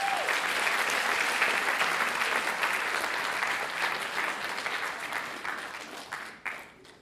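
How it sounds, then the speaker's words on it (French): Audience at an awards ceremony applauding a candidate, a dense, even wash of clapping that holds steady and then tapers off toward the end. "Merci d'applaudir la première candidate, Elsa."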